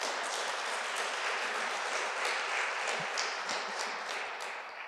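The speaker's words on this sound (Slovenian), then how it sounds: "En aplavz, prosim." Audience applause at an announcement event for the Slovenian sign and word of the year, a steady dense wash of many hands clapping alone and evenly, easing slightly toward the end.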